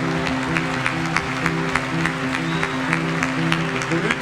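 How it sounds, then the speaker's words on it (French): A church congregation at a peace caravan launch service applauds loudly for Jesus Christ, dense sustained clapping with rhythmic accents over held organ or keyboard tones. "Jésus-Christ, nous allons l'acclamer très fort pour lui manifester"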